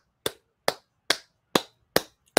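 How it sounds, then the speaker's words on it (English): Five sharp, evenly spaced claps ring out close and fairly loud, each a crisp single smack with a brief tail, in a steady slow rhythm with silence between. "I have to give a round of applause"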